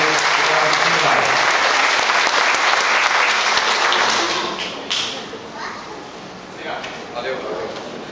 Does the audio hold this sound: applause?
yes